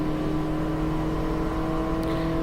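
Mini Cooper S race car in the Mini Challenge at Cadwell Park accelerating down the straight, a steady, loud onboard engine drone with a constant hum and no audible talk.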